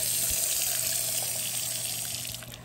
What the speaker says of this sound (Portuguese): Isso é água de nascente.